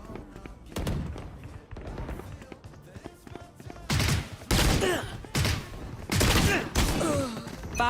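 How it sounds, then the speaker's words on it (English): Valorant gunfire during a VCT Americas grand final match between Sentinels and G2 Esports: bursts of rapid shots and heavy volleys, louder in the second half, with a caster talking underneath. "I have 3 people shooting at me."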